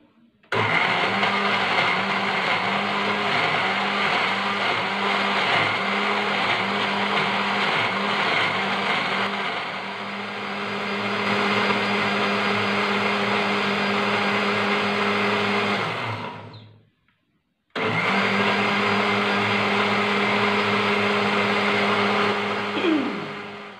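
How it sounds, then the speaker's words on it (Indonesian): A blender grinds spices loudly and steadily, its motor whirring at close range, then cuts out briefly and starts up again at full power. "terus di blender"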